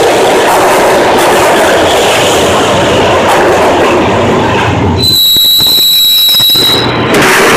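A train ride in the Max Payne video game plays as a loud, continuous roar of wheels and rattling carriages, then gives way to a high, sustained metallic squeal as the train brakes.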